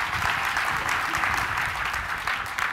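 Conference audience applauding after a keynote speech at the ONS 2013 networking event, a full, sustained crowd applause with a dense, continuous patter of clapping throughout.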